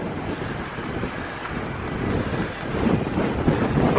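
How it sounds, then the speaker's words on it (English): Cold wind rushes between buildings in the City of London, a steady, close roar buffeting the microphone and growing slightly stronger toward the end. "there's some cold wind ripping through these buildings"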